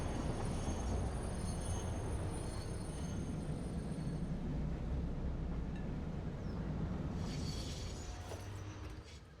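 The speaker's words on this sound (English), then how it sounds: "I love the train sounds." A train rumbles steadily along in the video game Satisfactory, a continuous loud roar of rolling wheels that fades slightly toward the end, with no talking.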